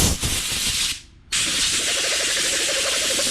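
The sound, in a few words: air blower puffing air on lawn mower parts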